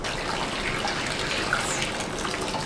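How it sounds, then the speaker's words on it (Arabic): Boiled water pours from a kettle into a pan for instant noodles, a steady splashing gush that continues evenly at moderate volume without pause. "ودي الطاسة وهنحط فيهم المية المغلية"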